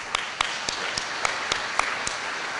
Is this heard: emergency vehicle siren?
no